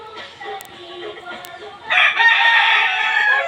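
A rooster crows loudly and close by at a lively birthday gathering, its long call rising over background chatter and clucking in the second half.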